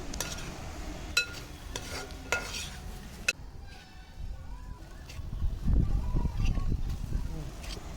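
Boiled eggs are stirred through tomato masala in a pan for egg roast: a few crisp spoon clinks and scrapes against the pan, then a low, rumbling sizzle building near the end.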